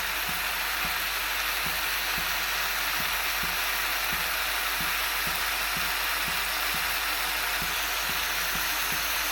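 Onions sautéing in a pan give off a steady, even sizzle, with soft regular stirring taps in the low range, heard up close with no talking.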